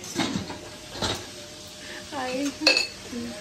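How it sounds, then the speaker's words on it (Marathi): Metal utensils clink and scrape against a pan while onion is sautéed for misal, a few distinct knocks and stirs with faint sizzling, a voice speaking intermittently over it. "ती आता कांदा परतून घेते."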